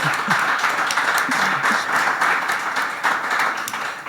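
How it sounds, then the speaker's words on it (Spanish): An audience claps for Luciana at Estación Podcast Madrid 2025, a live podcast event. The applause is a dense, steady roar of many hands, fairly loud and sustained for about four seconds, with no talking over it. "Otro aplauso"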